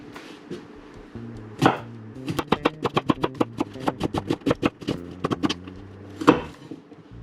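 Half an onion is chopped on a board with a knife, a quick, steady run of sharp close thuds, bracketed by a few heavier single knocks before and after.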